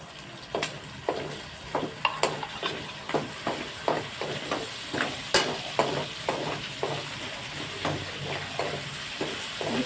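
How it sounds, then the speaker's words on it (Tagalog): Sardines sauté in hot oil in a pan, sizzling steadily beneath a regular series of sharp spatula strikes and scrapes, close and fairly loud throughout. "then isunod na natin igisa ang sardinas"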